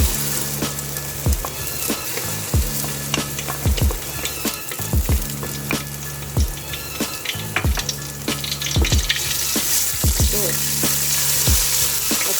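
Ginger garlic paste fries in ghee over a medium flame in a pot for chana, a loud close sizzle broken by repeated utensil scrapes and stirring knocks in an uneven rhythm, with no voices.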